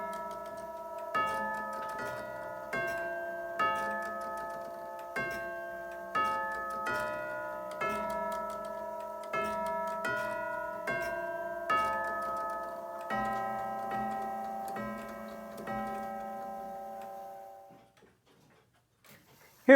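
Hammers strike the chime tubes of a monumental Self Winding Clock Co. grandfather clock, ringing out a steady sequence of clear, sustained chime notes with a soft mechanical knock on each strike, then fading to silence.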